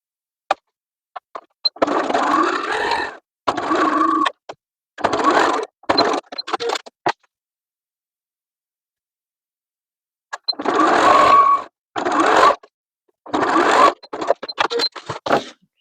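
A sewing machine stitching a pullover top in short, separate bursts of rapid whirring, with quiet pauses between runs and a longer break midway.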